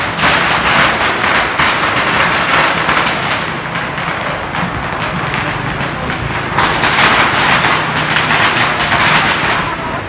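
Firecrackers and fireworks go off in China for the Lantern Festival on the fifteenth of the first lunar month, a loud, dense, continuous crackling barrage that stays constant throughout.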